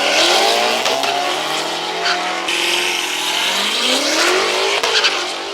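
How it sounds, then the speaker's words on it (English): BMW M5 accelerating while hanging in first gear, a loud, close engine roar with rising and dipping revs and a sustained high-pitched strain, with no speech. "the car would hang on the first gear"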